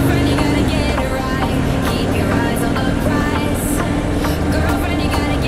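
A car drives along a country road, a steady close engine and tyre rumble with road noise throughout and small rhythmic clicks, no talking.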